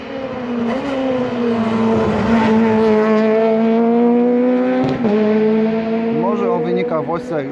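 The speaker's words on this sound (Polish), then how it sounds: "Tymczasem kolejni zawodnicy przejeżdżają koło naszego stanowiska." Rally cars, including Lancers and Peugeot 208 R2s, race past a spectator point on a stage of the 2019 Rally Świdnicki: a loud, close engine wails with shifting pitch, then another car revs in. A commentator talks over the sound.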